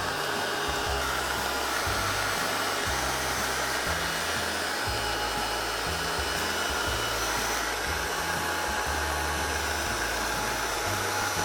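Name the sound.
heat gun melting embossing powder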